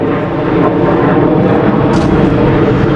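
An airplane flies overhead beside a fishing spot, its loud, steady engine drone filling the whole stretch without any talking.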